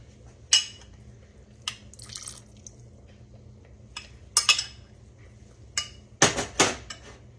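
Muscadine grapes are mashed in a dish to squeeze out the juice, giving scattered sharp clinks and wet squelches in a few separate bursts, close by over a quiet background.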